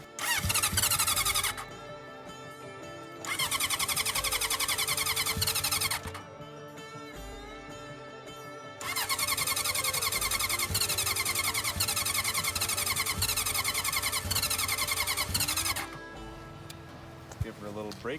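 A 1982 Honda motorcycle engine cranking on a weak, dying battery while the choke and throttle are worked, several long grinding cranking bursts broken by pauses, with people talking over and between attempts.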